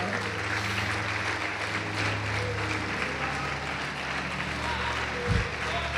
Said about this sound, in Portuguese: Quem pode aplaudir o Senhor Jesus e glorificar